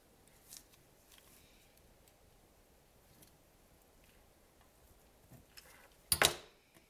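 Scissors cut paper for a small envelope mini album with a single sharp snip near the end, after a quiet stretch of faint rustling.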